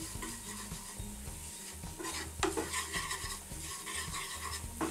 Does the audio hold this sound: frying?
yes